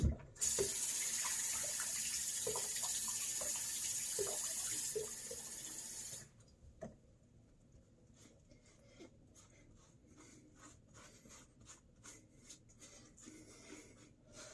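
Tap water runs loudly into a sink as a safety razor is rinsed under it for about six seconds, then stops, leaving faint clicks and small handling sounds close by.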